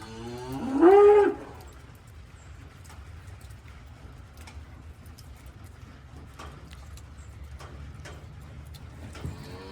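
A cow with her firstborn calf lets out a single loud moo early on, then the scene settles into quiet farmyard ambience on a rainy day with faint scattered knocks.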